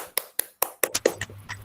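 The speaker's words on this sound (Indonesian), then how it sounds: "Tepuk tangan buat kita semua." Children in a primary school classroom clap together in a short rhythmic burst, about a handful of crisp, close claps in a steady beat that loosen toward the end.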